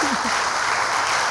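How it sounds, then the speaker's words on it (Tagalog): A church congregation claps together in a sustained, dense burst of applause during a worship service, steady and fairly loud throughout. "Pumalakpak nga kayo ng may kapangyarihan."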